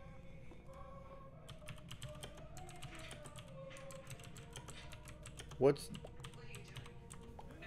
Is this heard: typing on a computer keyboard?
yes